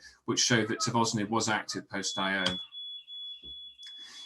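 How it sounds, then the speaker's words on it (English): A car alarm sounds in the background during an oncology conference talk: a steady high electronic tone begins partway through, beneath a man's speech, and keeps ringing alone after he pauses. "I think a car alarm is just going off."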